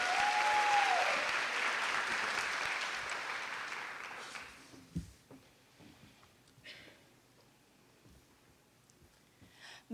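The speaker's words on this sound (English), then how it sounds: "Please give her a nice round of applause" An audience at a Delaware State University convocation applauds a new student government president, full clapping for about four seconds that then tapers off into scattered claps and quiet room noise.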